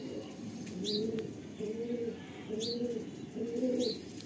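Pigeons for sale at a breeder's loft, including red birds, coo close by in four steady, evenly spaced low throaty phrases, with a few faint higher chirps above them.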